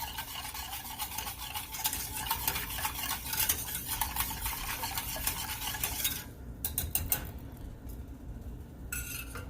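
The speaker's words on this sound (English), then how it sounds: "So now I'm just sort of whisking it, helping the sugar melt." Steady whisking of a sauce with sugar in a pot on the stove, a continuous scraping, stirring rasp with light metallic clicks, close and fairly loud, briefly dipping near the end before resuming.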